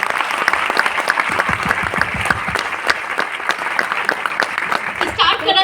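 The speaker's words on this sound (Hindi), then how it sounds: "तो एक बार कंपनी के लिए जोरदार तालियां होनी चाहिए।" An audience at a company gathering gives loud, vigorous applause, with rhythmic hand claps standing out sharply and voices mixed in among the crowd.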